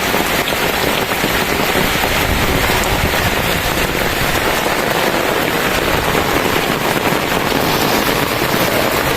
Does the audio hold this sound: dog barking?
no